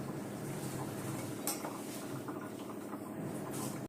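Tomato thokku being stirred in a pan, a spoon scraping and clinking against the metal with occasional sharper knocks, continuous and close over steady background noise.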